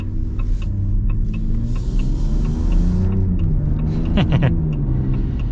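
A big 2025 Ram RHO pickup truck engine rumbles steadily close by, a deep idle that swells slightly as it revs, with a brief higher whine near the end.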